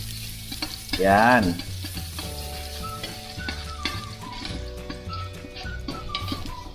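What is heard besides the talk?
garlic sautéing in cooking oil in a pan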